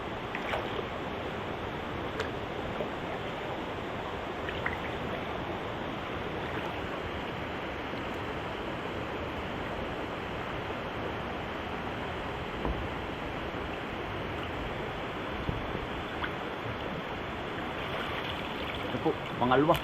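A swollen, fast-flowing river rushes without a break, a dense, even roar of water from start to finish, heard while people catch crabs and shrimp with a trap.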